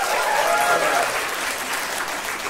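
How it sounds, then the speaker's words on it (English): An audience claps and cheers together at a late-night stand-up comedy show, a dense steady burst of applause lasting a couple of seconds before gradually thinning. "give me a clap if you enjoy receiving a massage"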